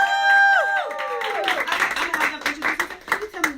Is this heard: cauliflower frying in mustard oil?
no